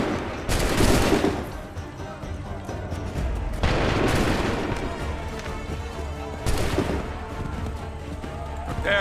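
Musket volleys crackle and boom from Assassin's Creed 3, loud bursts of massed gunfire landing near the start, middle and end of the stretch, with a dense rumble of battle noise filling the gaps between them.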